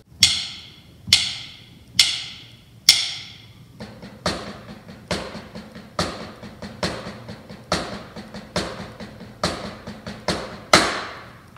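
Drum single paradiddles with accents falling on the off-beat, a steady stream of close, sharp strokes with louder accented hits standing out in a regular rhythm for about eleven seconds, no talking.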